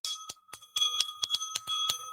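A bright bell rings repeatedly in an NFL Draft room in quick, uneven strikes, each ding short and ringing over a faint steady tone, moderately quiet.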